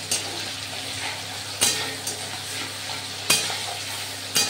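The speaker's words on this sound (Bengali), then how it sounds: "টমেটোর সঙ্গে পেঁয়াজটা ভাজছি।" Chopped onion frying with tomato in a pan for a broiler chicken dish, a continuous soft sizzle with periodic scraping stirs from a utensil, close and without talk.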